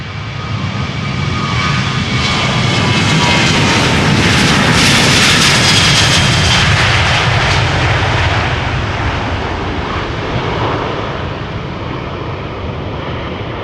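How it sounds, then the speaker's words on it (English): A KLM Boeing 737-800 jet taking off from the Polderbaan runway at Schiphol, a loud, sustained engine roar that swells to a peak and then slowly eases off as the aircraft climbs away. "KLM flight 1139 to Dublin. 737-800, KLM flight 1139."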